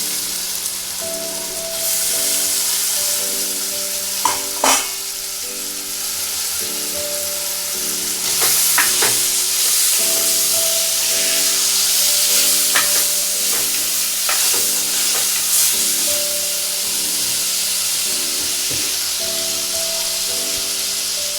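Cleaned shark pieces fry in hot oil in a pan for a Sri Lankan-style shark curry, a loud continuous sizzle and hiss with stirring scrapes and occasional spatter bursts, no voices.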